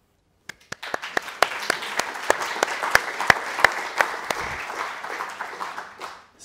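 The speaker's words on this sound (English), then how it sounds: "they also deserve a round of applause." A live conference audience breaks into applause after a presentation, starting with a few scattered claps and swelling into steady, dense clapping that fills the room before tapering off at the end.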